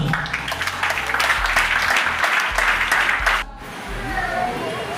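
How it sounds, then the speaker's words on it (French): Applause rings out inside a church during a wedding ceremony, a dense steady clapping from the congregation that breaks off abruptly partway through and gives way to quieter room sound with a voice. "On applaudit dans l'église là."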